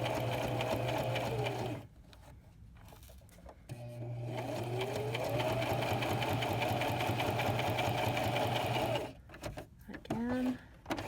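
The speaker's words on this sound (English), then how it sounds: "My stitching goes very nice along the top of my pink line." Sewing machine stitching fabric for a fitted face mask, a loud steady mechanical whirr running in two long stretches with a short pause between, then stopping near the end with a few faint clicks.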